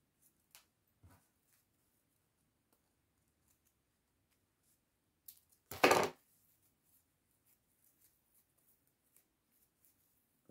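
Scissors snip excess ribbon while making a DIY bow, a single brief cut in a quiet room with a few faint handling ticks around it.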